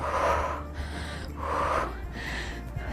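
Forceful breaths out in cardio squat exercise, two strong exhales about a second apart with a softer third, close and breathy with no talking.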